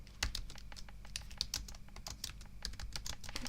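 Quiet, close typing on a computer keyboard, a rapid irregular patter of key clicks that runs for a few seconds with no talk.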